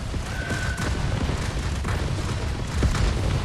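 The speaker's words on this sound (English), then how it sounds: "I can hit them with grenades" Grenade explosions in a video game produce a continuous loud rumbling blast with deep booming bursts that crowd together over a few seconds.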